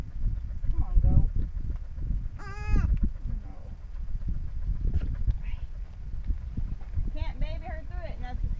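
Goats bleat several times during worming on a farm, short wavering cries near and far, mixed with hoof shuffling and movement, while a person talks over them.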